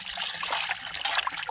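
Tap water runs and splashes while pork is washed for chilli pork, a bright uneven trickle close to the microphone.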